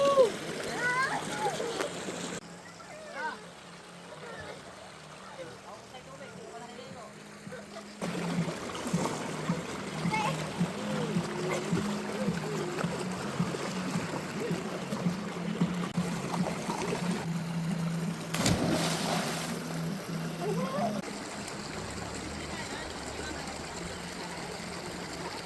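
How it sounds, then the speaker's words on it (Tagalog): Children splash and bathe in a clear river at Pita, Bataan, with steady water splashing and trickling close by under ongoing voices and chatter. "nag-enjoy na aking mga pamangkin sa paliligo dito sa ilog"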